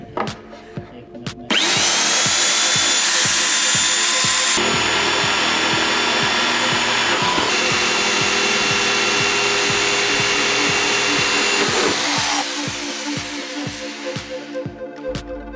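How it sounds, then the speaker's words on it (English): A power drill bores into a wooden guitar in a workshop, a loud, sustained whine lasting about ten seconds, with softer clicks and handling noises before and after. "Are you up for drilling the guitar?"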